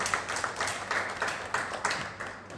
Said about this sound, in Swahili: naomba tumpigie makofi ya kumshukuru kwa kweli kwa kazi nzuri aliyofanya